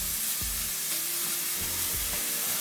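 Finely minced shallots sizzling in a hot pan for stuffed shells with ricotta and spinach, a loud continuous crackling hiss with brief stirring scrapes, close and without talk.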